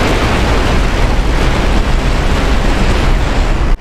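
Continuous heavy roar of 30mm Avenger high-explosive incendiary rounds hitting an M2 Bradley in the DCS World combat game, loud and dense with no pause until a sudden cutoff at the end.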